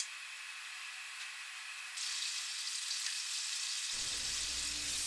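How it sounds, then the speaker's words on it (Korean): Butter melts in a pan over high heat for an American-style hoppin' john, a steady hiss building up before a louder, closer sizzle breaks in near the end, with no talking. "센 불에서 버터 2큰술을 녹여요."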